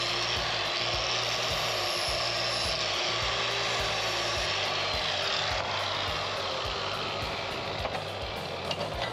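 A flap disc grinds notches into steel tubing for Honda Trail 125 crash bars, a steady, loud, continuous abrasive roar with a rhythmic low pulsing throughout, close up and alone.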